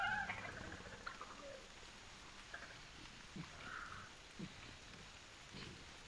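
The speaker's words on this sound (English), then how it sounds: "And of course the rain isn't helping." Soft, steady rain patters throughout a scene in the hunting video game The Hunter Primal, faint and continuous, with a few scattered thumps and brief calls rising above it.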